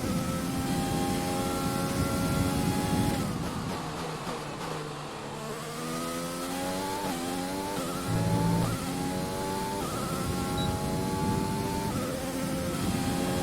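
An F1 race car screams through a lap at the Bahrain Grand Prix in F1 2020. The high engine note climbs through the gears, dips at the braking points, and climbs again, loud and steady, with no talking.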